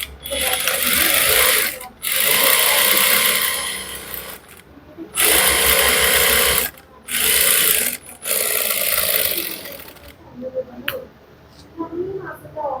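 Sewing machine stitching the side seam of a fabric garment piece cut from body measurements, running in several loud bursts of a few seconds each with short pauses between, fading to lighter handling noises at the end.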